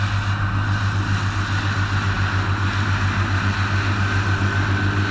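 A tractor engine drones steadily and loudly while mowing a pasture, a constant low throbbing hum with wind-like broadband noise on top, with no talk over it.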